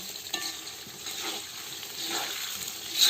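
Potatoes frying in a pan of hot oil, a close bright hiss and crackle that holds steady and swells slightly near the end, with no voices.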